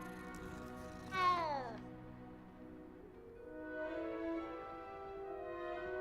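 Cat meowing in the video game Hogwarts Legacy: one clear, rising-then-falling meow stands out against steady in-game music and ambience, followed by softer tonal game sounds.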